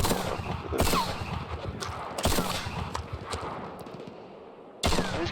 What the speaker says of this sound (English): He kind of runs up and starts blasting the shotgun.